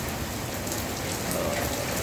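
Steady rain falls outdoors in the evening, a constant even hiss of drops on surfaces with no other sounds rising above it.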